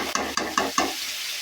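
Vegetables, apparently aubergine, potato and tomato, frying in hot oil in a pan for a village-style pabda fish dish: a steady sizzle broken by four rhythmic stirring scrapes, close and moderately loud, with no talking.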